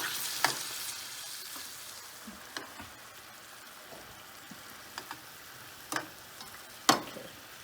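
Stuffed calamari cooking in a pan over a lowered flame, giving a quiet, steady sizzle with scattered small pops and sharper crackles throughout, alone with no talking.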